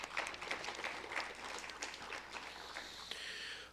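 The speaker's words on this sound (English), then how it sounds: "A round of applause for the Athens" An audience applauds the Athens Wildcats Silver Team at a scholarship quiz competition, a steady wash of clapping that holds for several seconds without talk.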